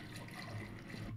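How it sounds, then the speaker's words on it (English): Running water trickles and splashes faintly and continuously in the video game Hellboy: The Science of Evil, a brief low-level watery hiss without voices. "The water sound keep going."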